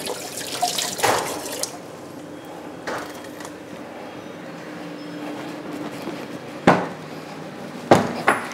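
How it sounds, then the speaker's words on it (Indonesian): Hands being washed under a running tap at home: a steady low stream of water with sharper splashes and clunks at intervals, fairly quiet and with no talking. "Cuci tangan dulu."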